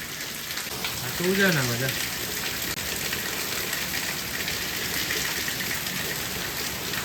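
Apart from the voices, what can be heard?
heavy rain falling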